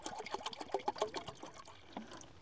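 Water poured while setting up a camping stove, a faint close trickle and splash with small bubbling bursts over a couple of seconds, no speech.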